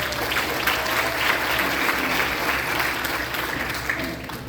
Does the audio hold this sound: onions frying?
no